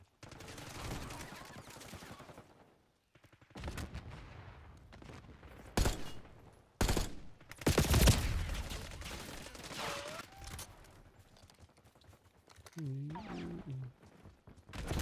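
Bursts of rapid gunfire from the Black Ops 6 game come in uneven clusters, with several loud, sharp volleys and quieter stretches between them. Game voices and effects are heard in the background.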